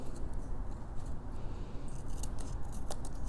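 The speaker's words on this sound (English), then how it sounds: "I'll trim that down on both of those corners." Scissors snip paper corners while trimming the covered cover of a Christmas accordion tag album, a few quiet close cuts and rustles over low room noise, with no talking.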